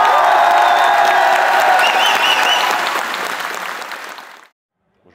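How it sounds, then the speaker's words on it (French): Crowd applause with some cheering and whoops at a powerlifting competition, loud and dense for several seconds before tapering off and cutting to near silence. "un tonnerre d'applaudissements pour tous les bénévoles qui ont aidé chez Meet."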